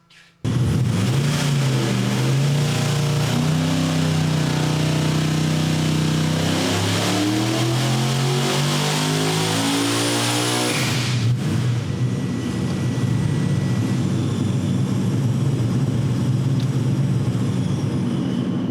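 Tuned turbocharged car engine on VP 113 race gas with timing turned up, revving hard in one long rising and falling pull at close range on a dyno, then cutting back to a rough idle with the intercooler fan running.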